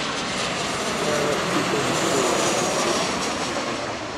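Steady, broad roar of a jet aircraft at Seattle airport, continuous and fairly loud throughout with no clear rise or fall, heard from a distance on the ground.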